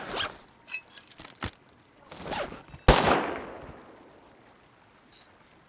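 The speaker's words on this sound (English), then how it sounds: "Just heard a turret. It was above me." Automated turret gunfire in the game Rust on a PvE server: scattered sharp bursts and rattles, with one loud crack around the middle that trails off into a fading echo, then a brief faint tail.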